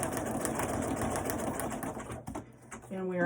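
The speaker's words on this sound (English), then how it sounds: "We don't have to hear the racket of the sewing machine anymore." A domestic sewing machine runs steadily while stitching a fabric gift box, its rapid mechanical chatter filling most of the moment before it stops and a voice begins talking.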